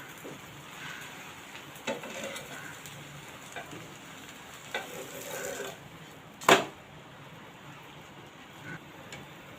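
Rava uttapam with a vegetable topping cooking slowly on a pan over low flame, a soft faint crackle and patter with scattered light ticks and one sharp clatter, close and quiet with no speech.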